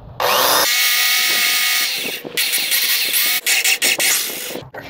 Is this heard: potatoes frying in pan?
no